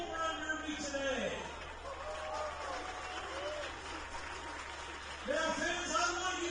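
A crowd at a baseball home run derby applauding, scattered clapping and cheers at a distance with voices talking throughout and a fresh swell of applause near the end.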